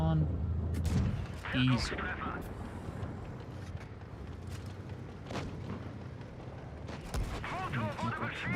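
Heavy tank cannon blasts and booming impacts in the online game World of Tanks Blitz, several loud bursts over rumbling engine noise, with players talking over the action.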